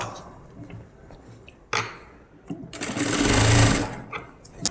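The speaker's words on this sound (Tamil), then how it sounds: "இதை நம்ம டபுள் ஸ்டிச் போட்டுக்குவோம்." A sewing machine runs a double stitch on an umbrella gown, starting with short fabric handling noises and then a steady, loud whirring burst of stitching in the middle before stopping.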